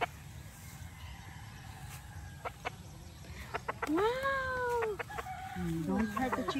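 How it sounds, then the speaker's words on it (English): A chicken clucks and gives a rising, drawn-out crow-like call nearby, over a steady outdoor hiss with scattered clicks and a few brief low cries toward the end. "Touch the chicken."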